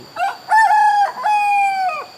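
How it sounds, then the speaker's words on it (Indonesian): A rooster crows loudly and close by in two long, drawn-out calls, each rising and then holding a steady tone, heard alone without talk near a rice barn of the Baduy people. "Di belakang kami ayam kakok-kakok melulu."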